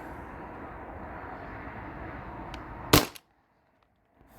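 One sharp shot from a modified Valken M17 airsoft gun running on an HPA tank cracks close and loud over a steady background hum, then cuts to near silence.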